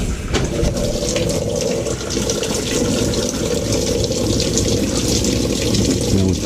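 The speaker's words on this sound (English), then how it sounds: "So right now we're only going to test water coming in" Water rushes continuously into the tub of a Maytag Centennial top-load washer, model MVWC415EW1, a steady loud gushing fill heard close up with no talk.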